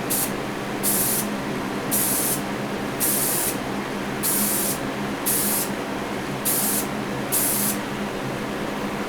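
Spray primer hisses from an aerosol can onto a diecast Gran Torino drag car model in about eight steady, evenly spaced bursts, each lasting roughly half a second, close and loud over a constant background hiss.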